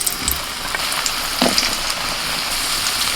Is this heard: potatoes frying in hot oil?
yes